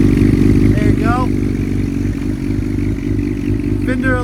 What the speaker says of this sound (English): It has a Yoshimura aftermarket exhaust here. I love it. Sounds real good.